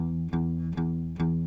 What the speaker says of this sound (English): That's straight 8th notes.